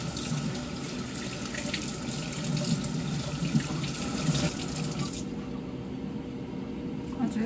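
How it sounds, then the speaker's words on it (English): Water runs steadily from a kitchen tap into a sink, a continuous close hiss that stops abruptly near the end, leaving quieter room tone. "Y'all heard the water."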